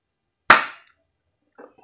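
A single sharp, snappy shot from a Q7 spring airsoft pistol, loud and close, followed by a faint mechanical click moments later.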